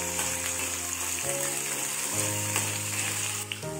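Garlic frying in oil and being stirred for an apple pickle, with a dense, steady crackling sizzle throughout, close and loud, and faint stirring underneath, with no talking.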